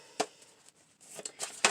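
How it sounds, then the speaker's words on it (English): A tarot oracle card deck is shuffled in a few quick, crisp riffling bursts, soft and close, with brief pauses between them. "Let me shuffle this once"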